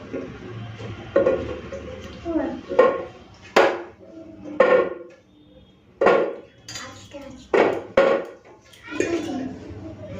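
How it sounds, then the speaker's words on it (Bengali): A lid goes onto a cooking pot and a gas stove is lit while pickling amla, with several loud metallic clanks and knocks spread out over a quiet kitchen background and a person talking in between. "এখন আমি ঢাকাটা লাগিয়ে দিলাম আর গ্যাসটা ধরিয়ে দিলাম"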